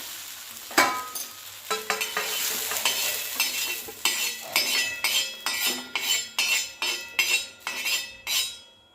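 Okra fries on a hot griddle, a loud continuous sizzle broken by repeated rhythmic scrapes and clinks of a metal spatula stirring, growing steadier toward the end.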